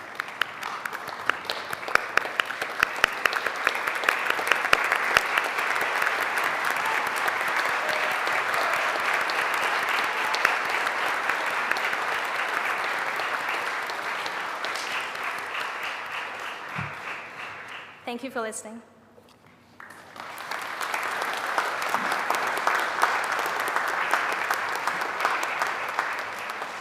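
Graduates standing and applauding at a graduation ceremony, a long steady roar of hall-wide clapping that briefly dips and then resumes, with a short spoken phrase in the lull.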